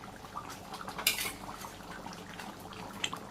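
Spices such as ground cumin and garam masala are stirred into a village-style country chicken and potato curry in a pot, with soft scraping and clinking of a spoon against metal and one sharper knock partway through.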